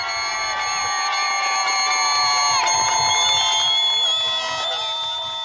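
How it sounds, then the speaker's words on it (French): A crowd cheers and shouts loudly at a soapbox race event to pick favourite vehicles, with sustained whistles and high-pitched horn-like tones over the roar. "élection par la foule en délire, aux décibels élevés, des véhicules coup de cœur du public"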